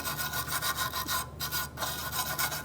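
A brush or pad scrubs the raised contact points of a 2013-2018 Toyota RAV4 parking brake backing plate in quick, even back-and-forth rasping strokes. It sounds close and steady, with one brief pause.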